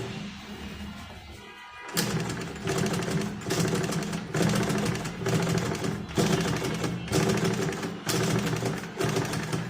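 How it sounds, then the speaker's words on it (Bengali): Sewing machine stitching after its bobbin and top thread tension were adjusted, running loud and steady in bursts with brief pauses, starting after a quiet moment at the beginning. "এখন সেলাই করে দেখি কী অবস্থা।"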